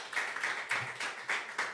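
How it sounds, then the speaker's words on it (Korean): A church congregation applauds during a founding thanksgiving service, a short, fairly quiet burst of steady clapping with no voices. "다시 한번 박수 드립니다."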